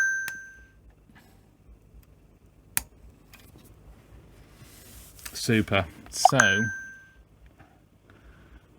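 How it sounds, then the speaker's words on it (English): A mobile phone chimes with notifications on a workbench during a Sony SLC6 Betamax overhaul, two short bright tones a few seconds apart, faint with a person speaking briefly between them. "So it's my phone going off."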